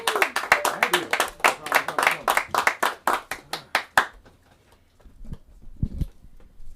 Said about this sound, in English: Clap it up, make some noise for Iman McGray.